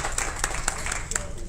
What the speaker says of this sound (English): We'd like to give you all a round of applause